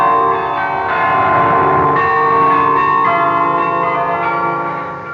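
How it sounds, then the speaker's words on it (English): Pealing bells ring the Radio Netherlands interval signal, the tune Merck toch hoe sterk, as a continuous run of overlapping struck tones that fades slightly at the end, with no voices. "It's Merk Toch Hoesterk, our interval signal that would announce Radio Netherlands' arrival to the shortwaves"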